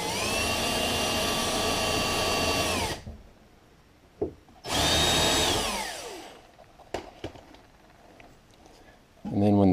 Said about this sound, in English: once I have the hole drilled to hook in the two cabinets, I go ahead and use a countersink tool